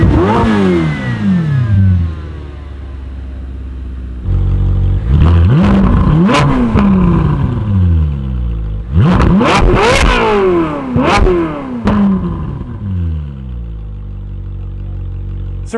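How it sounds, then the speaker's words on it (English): Ferrari F8 Spider twin-turbo V8 with exhaust valves closed, heard close by in a series of revs that rise and fall over a subdued idle, several sharp blips clustered near the middle. "You can hear with the car at idle with the valves closed, it's not real impressive."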